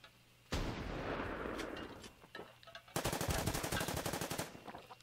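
Gunfire in a WW2 strategy video game set on the Burma Road in Arakan, with a dense burst of shots followed by a rapid, loud stream of repeated cracks, no talk.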